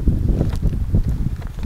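Wind buffets the microphone in loud, low rumbling gusts outside a village blacksmith's forge, rising and falling unevenly across a short stretch with no voices.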